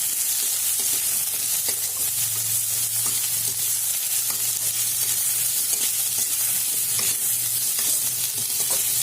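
Tomatoes and chillies frying in a pan, a continuous loud sizzle and hiss with light scraping stirs scattered throughout, close up and with no talking.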